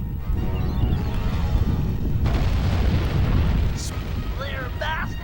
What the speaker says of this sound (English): Turn our boat to give him a broadside with the cannons.